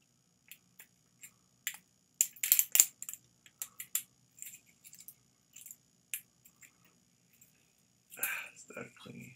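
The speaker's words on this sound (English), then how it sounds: "There's plastic that has to be removed." Plastic packaging is cut and pulled off a supplement bottle in a series of sharp, faint crinkles, snips and crackles, irregular and close in a quiet room, with a louder rustling burst near the end.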